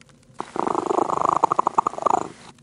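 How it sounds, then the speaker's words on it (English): A cat purrs in the PC hidden-object game I Spy: Mystery, a steady, close, rhythmic rumble of repeated pulses lasting about two seconds, with no talking over it. "A cat."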